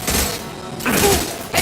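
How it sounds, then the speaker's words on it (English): An impact shot fires in the video game Mass Effect 2: a few sharp, loud bursts with thuddy booms, separated by short gaps. "Firing an impact shot!"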